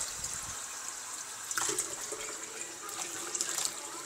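Water runs from a kitchen tap in a steady close hiss, with a couple of brief splashy surges as the flow shifts, and no voices.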